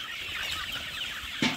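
Gavran country chickens on a Pune poultry farm cluck softly while filing into their coop at night, over a steady background hum, with one sharper squawk or flutter near the end.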